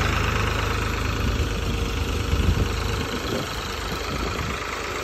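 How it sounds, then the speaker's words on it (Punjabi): A New Holland tractor engine runs steadily nearby at slightly raised revs, a low, throbbing idle with a slight knock that holds throughout. "ਟਰੈਕਟਰ ਥੋੜੀ ਰੇਸ ਤੇ ਚੱਲਦਾ ਵਾ ਪੂਰੇ ਵਧੀਆ"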